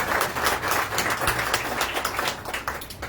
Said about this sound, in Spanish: Un aplauso, hermanos, y bienvenido.